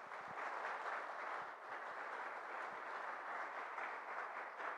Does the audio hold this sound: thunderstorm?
no